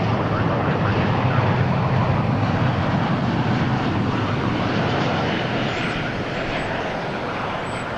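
A Oneworld-liveried Boeing 777-200 at Dallas Fort Worth airport produces a steady, heavy jet engine rumble that holds loud and even across the whole stretch, with no talk over it.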